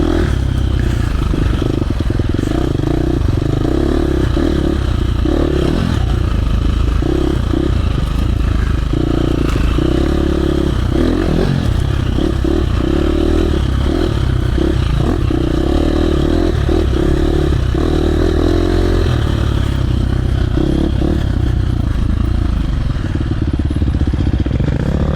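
A KTM 350 dirt bike (2024 SX-F or 2025 XC-F) ridden through woods, its engine loud and close in a continuous rough drone, revs rising and falling amid clattering and scraping over the trail.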